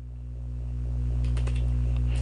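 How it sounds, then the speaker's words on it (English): Keys clicking in a short burst of typing on a computer keyboard, faint and close, with a steady electronic hum underneath. "Just simply type ipconfig"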